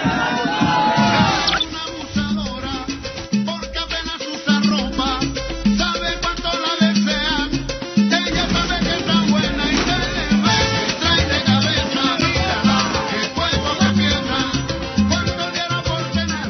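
A large crowd of Alianza Lima supporters chants and roars at Matute stadium in Lima during a match against León de Huánuco, with heavy drums keeping a steady beat under loud, continuous singing.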